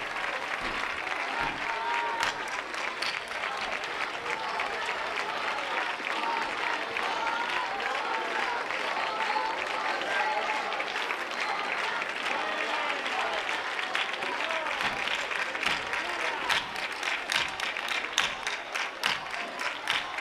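Sustained applause from an outdoor concert crowd for a local band at a Virgen del Carmen festival in Manilva, steady dense clapping with cheering filling the whole stretch at an even loud level.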